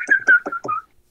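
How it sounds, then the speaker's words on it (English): A person whistling unsteadily, four short breathy tones in a rough rhythm, close and fairly loud, then silence. "I can't whistle for shit."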